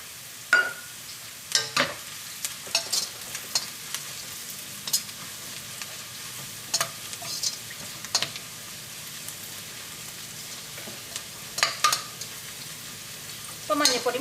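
Onions fry with turmeric powder in a pan for a Kerala green peas curry, making a steady sizzle broken by repeated scraping stirs of a spoon, fairly close, with no voices.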